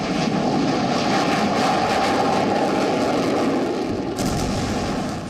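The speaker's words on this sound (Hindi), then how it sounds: "इजराइल के फाइटर जेट फिलिस्तीन में हमास के ठिकानों को चुन चुन कर ठिकाने लगा रहे हैं।" Israeli fighter jets over the Gaza border in wartime give a steady, loud roaring rumble that fills the whole clip without a break, with no voices.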